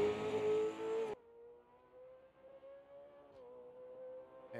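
The Coca-Cola race car from a Bathurst sim racing game, heard first as a brief loud engine roar that abruptly drops to a faint, steady engine hum for the remaining seconds.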